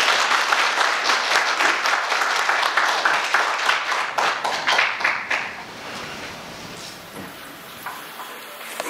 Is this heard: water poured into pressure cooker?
no